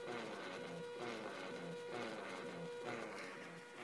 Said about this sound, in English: I should be able to transmit a weak signal at least to this radio sitting here, which I've pre-tuned.